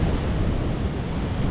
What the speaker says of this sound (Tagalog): Ang alon ay malapay-lapay na